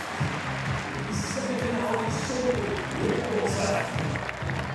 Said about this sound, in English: And the crowd here going crazy.